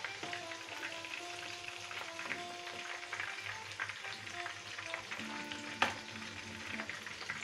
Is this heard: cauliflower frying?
yes